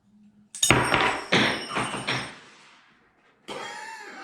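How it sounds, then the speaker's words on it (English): Firing pin spring from a Mosin Nagant M44 bolt shooting out: a sudden sharp snap, then a run of clattering bounces that fade over about two seconds, followed by another knock. "there was a spring in there, and it wasn't supposed to shoot like that"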